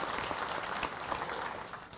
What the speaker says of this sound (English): give those folks a big round of applause for joining us today